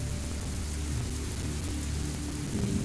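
Steady rain from the video game Sheltered 2, a continuous soft hiss of falling water with low rumbling underneath, unbroken and even throughout.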